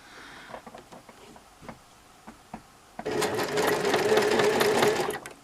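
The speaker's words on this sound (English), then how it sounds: "Take a couple of stitches and then back it up, because you don't want this to come unravelled on you" Domestic sewing machine stitching apron fabric, starting after a few light handling clicks with a sudden steady whirring buzz that runs close and loud for the last couple of seconds.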